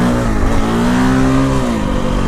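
A KTM 525 dual-sport motorcycle pulls hard in third gear, its single-cylinder engine a loud, steady, rising drone heard close, with a slight dip in pitch near the end.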